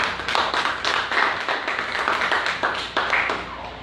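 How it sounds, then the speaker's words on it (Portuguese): Congregation clapping for Jesus in a church service, a rhythmic run of sharp, fairly close hand claps with a few accented beats, no voices over them. "Vamos aplaudir Jesus."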